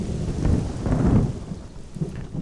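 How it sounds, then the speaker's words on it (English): Storm miracle thunder in the Black and White god game: a deep, rumbling roll of thunder with a rainy hiss, swelling and fading over a couple of seconds, with no voices. "Wait, he's got lightning, storm miracle."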